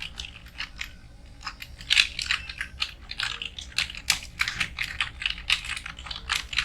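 Someone types on a computer keyboard while entering a name into Notepad: rapid, irregular clicking keystrokes, close and clear, with no speech.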